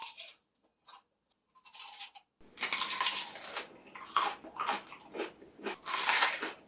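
Crisp crunchy bites and chewing of crunchy food captured on a smartphone's ASMR recording mode, several close, loud crunches after a few fainter earlier bites, with no talking.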